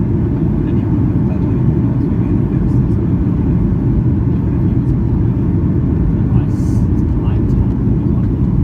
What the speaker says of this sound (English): For landing, I think they're going to be using like just a normal reverse thrust, and the flaps are being set.